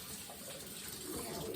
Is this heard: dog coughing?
no